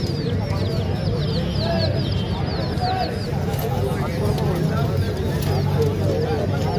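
Chicks and hens at a busy outdoor pigeon market, a dense chorus of high peeping and clucking close by, continuous over crowd chatter and people talking.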